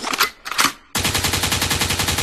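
Two sharp gunshot bursts ring out, then a rapid machine-gun-like rattle continues loud and unbroken to the end as a sound effect.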